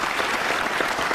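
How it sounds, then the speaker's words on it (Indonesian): A crowd at a public Q&A event with Jokowi breaks into applause, a brief, steady patter of many hands clapping at moderate volume with no talk over it. "Baik, boleh diberikan tepuk tangan Pak Jokowi."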